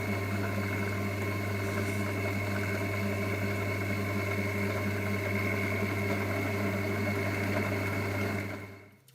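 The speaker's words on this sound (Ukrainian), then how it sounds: "я все ще сверлю на сухо, але різьбу різати буду вже зі змазкою" A drill press boring dry into aluminium, giving a steady, loud motor whine with a constant hum that runs throughout and cuts off at the end.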